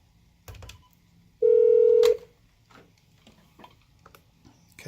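A T46S desk phone keypad is pressed while dialing an extension, producing one loud sustained beep of under a second amid soft key clicks and a quiet background.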